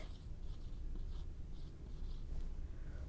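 Pen scratching across paper during a ninth-grade maths lesson on log tables, a steady soft scribble with faint stroke bursts over a continuous low background hum.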